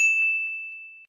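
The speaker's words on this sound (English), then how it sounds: "ding" A single bright ding rings out cleanly, one clear metallic tone that sustains and slowly decays for about a second, with nothing else around it.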